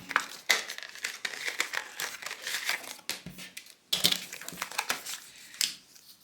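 Packaging for a RHINOSHIELD 9H tempered glass lens protector for an iPhone 14 Pro being opened up close, with crisp crinkling and crumpling of plastic and paper in irregular bursts and no talking.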